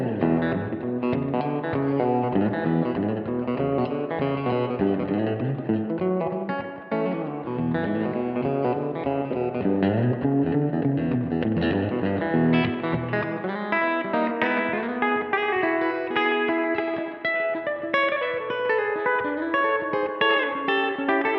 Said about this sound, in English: So this is a cool example of a dual reverb patch